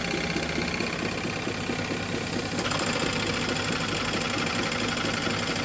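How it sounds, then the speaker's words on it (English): A small kit-built two-cylinder model engine, shown in a machine shop, runs steadily with a fast even chatter and a constant hum, loud and close with no voices over it. "Just a cute little 2-cylinder that runs real well."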